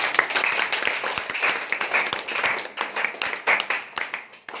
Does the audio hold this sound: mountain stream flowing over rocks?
no